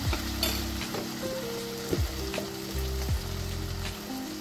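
Egg and dried-shrimp curry sizzles in a pan over a medium flame, a quiet, even frying hiss with a few soft stirring knocks.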